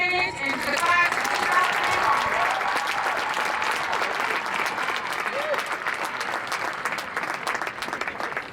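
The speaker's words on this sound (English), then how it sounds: "Another round of applause, please." A crowd at a lieutenants' graduation ceremony applauds the class of 2021. A voice is heard at the very start, then sustained, dense clapping rolls on for several seconds before gradually thinning out.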